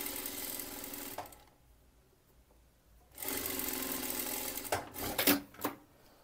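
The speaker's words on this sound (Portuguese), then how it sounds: "Aqui é uma costura reta, então é bem simples, só seguir." A sewing machine runs in two bursts, stitching a straight side seam on a peplum blouse with interfaced fabric: a steady mechanical whir for about a second, a pause, then a longer run with a few sharp clicks near the end.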